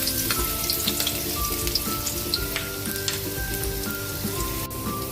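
Garlic sizzling in hot cooking oil, a steady close crackling fry with bright pops throughout, no voices.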